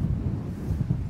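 Steady low rumble of breezy wind buffeting the microphone outdoors on a farm on a cool day, continuous and fairly loud with no distinct events.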